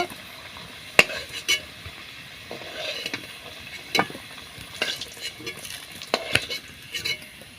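Potatoes frying in oil until reddish-brown for a chicken curry, a soft sizzle under sharp clinks and scrapes of a utensil against the pan at irregular intervals, close by.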